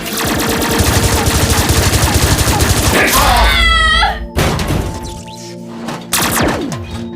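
Rapid, loud gunfire from an animated Transformers cartoon, a dense sustained burst lasting several seconds before cutting to crashes, impacts and effects, with cartoon voices talking.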